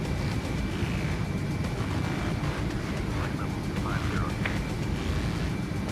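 Steady broadband wind noise rushes through the cockpit of an L-1011 TriStar airliner in flight in Microsoft Flight Simulator 2024, a constant hissing roar with faint radio chatter under it.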